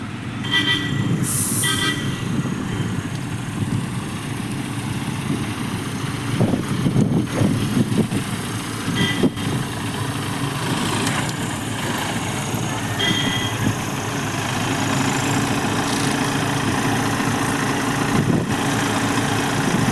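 A crane engine runs steadily at the NH 66 highway construction site in Randathani, Malappuram, a continuous low idling rumble with faint intermittent clanks and background site noise throughout, no talking.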